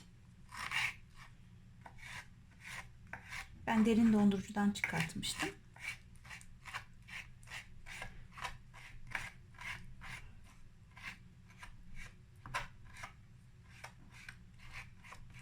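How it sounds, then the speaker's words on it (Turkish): A knife chops roasted eggplant into small pieces on a cutting board, a steady run of crisp, evenly spaced cuts close by. Someone talks briefly in the middle, and there is a short clatter around the same moment. "Şimdi közlenmiş olan patlıcanımı küçük küçük doğrayalım."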